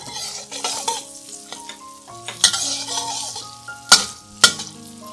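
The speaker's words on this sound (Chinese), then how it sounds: "再放入小辣椒炒一炒" Small chilies stir-fried with curry leaves in a pan for a Malaysian oyster mushroom dish, with a steady sizzle under scraping stirs and a few sharp clanks of the spatula against the wok, no voices.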